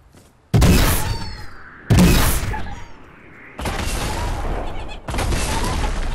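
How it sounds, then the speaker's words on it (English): Snowball launcher shots in a video game: four heavy, booming blasts in quick succession, loud and close, each followed by a sustained rumbling tail, with no talk. "Oh, snowball launcher."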